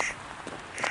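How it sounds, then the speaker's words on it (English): A crow-like bird calls on a hillside trail on Ben Lomond, a few short harsh caws, fairly faint and somewhat distant, with no one speaking. "I'm getting chased by some kind of bird."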